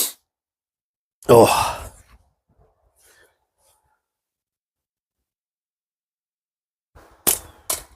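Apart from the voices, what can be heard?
Omega Slings slingshot with Electric White bands shooting at a can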